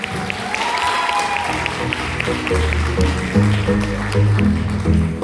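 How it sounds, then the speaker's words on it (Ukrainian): Concert audience applause at a Ukrainian Unity Day holiday concert in Bucha, broad clapping that continues as music with low tones builds underneath and grows louder toward the end. "ваші бурхливі оплески найкращій бучанській публіці."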